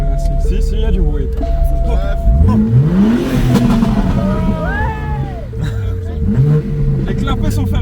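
A car engine revs up and down in short bursts nearby, with people talking and calling out over the noise.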